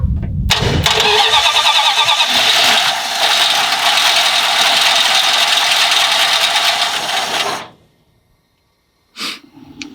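A Dodge M880 W-200 truck engine cranks and catches after its carburetor is cleaned, then runs loud and rough for several seconds before cutting out abruptly, followed by silence and a brief final sputter.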